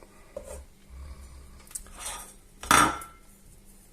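Food is set down on a plate with cutlery while cooking boiled eggs in fried tomato sauce, producing a few soft knocks and then one sharp, close ceramic clink with a ringing tail.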